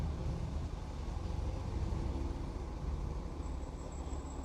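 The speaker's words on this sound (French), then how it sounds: "Je sais pas si tu l'entends, mais on entend des chars." Steady rumble of cars and heavy trucks passing close by near a garage, a continuous low roar of traffic with no talk, a faint high whine appearing toward the end.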